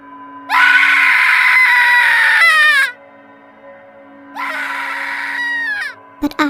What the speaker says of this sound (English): from the upstairs room, I heard a woman screaming in pain.